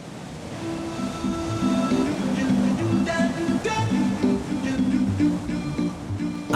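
Atlantic surf pounds the rocky coast at Buracona, Cape Verde, with a continuous broad wash of breaking waves under someone speaking French throughout.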